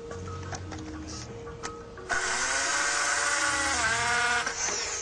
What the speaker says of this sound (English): the deadly power of a drill